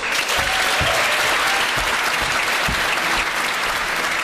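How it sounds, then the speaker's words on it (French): An audience at a law-school murder-trial stage show bursts into loud, sustained applause welcoming lawyer Bertrand Perrier, thick continuous clapping holding steady for the full stretch with no break. "Donnez l'applaudissement"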